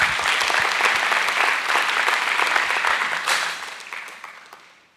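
A church congregation applauds during a Spanish-language sermon, a dense, steady wash of many hands clapping that holds for several seconds and then fades away toward the end.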